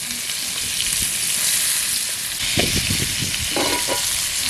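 Prawn-stuffed pointed gourds frying in a pan, a loud continuous hiss of sizzling oil with gentle stirring thumps and scrapes rising in the second half, no talking.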